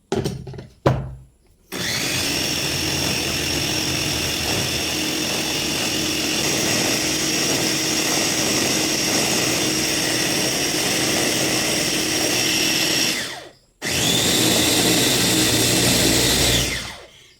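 A blender roars loudly and steadily for several seconds, stops briefly, then starts up again, close by with no talking.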